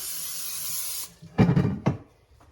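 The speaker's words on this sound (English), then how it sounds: "I'm going to spray a 9x13 baking dish with nonstick spray." A steady hissing spray of nonstick cooking spray onto a 9x13 baking dish lasts about a second, followed by a couple of light clunks and taps, close and fairly quiet.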